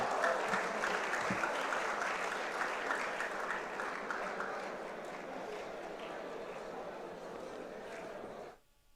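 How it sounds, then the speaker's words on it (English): A large conference audience applauds a speaker being called to the stage, a dense roar of clapping that gradually thins over several seconds before cutting off abruptly at the end. "Give a huge round of applause for Mr."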